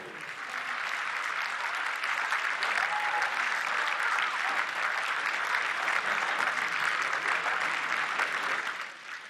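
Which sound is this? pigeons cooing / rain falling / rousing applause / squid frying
rousing applause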